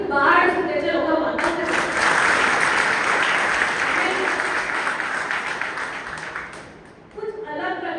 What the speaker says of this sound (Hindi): एक बार तालियों की बाढ़ सुनते चलो भगवान।